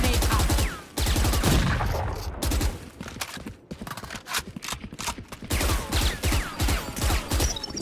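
Rapid crackling bursts of a Killjoy swarm grenade in the video game Valorant, with repeated sharp pops mixed into gunfire and game effects, loud and close with brief gaps between volleys.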